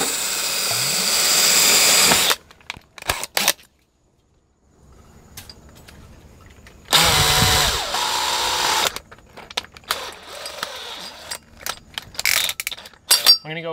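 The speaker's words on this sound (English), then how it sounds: "So I'm gonna go outside and drill the hole from the outside inwards now." A power drill bores a hole through exterior house siding for a mini split ductless line set, coming in loud bursts of whirring and grinding broken by short silent pauses, with rattling and clicks between runs.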